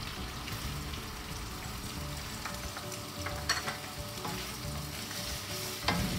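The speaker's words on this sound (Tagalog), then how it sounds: "igisa lang natin yung pork hanggang sa medyo lumabas na yung mantika ng karne" Diced pork sautéing in oil with already-cooked onions for menudo, a soft, steady sizzle beneath a few spoon scrapes and knocks against the pan, quiet and close with no speech.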